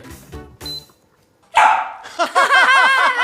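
A dog barks close and loud, first a few short separate barks, then after a brief pause a rapid run of repeated yips and barks.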